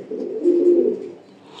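A racing pigeon gives a single soft, low coo lasting about a second, close and clear with no other sounds around it.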